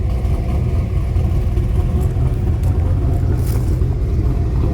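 A 1996 Camaro with a cammed LT1 V8 rumbles steadily while driving, a loud, continuous low engine drone with no voices.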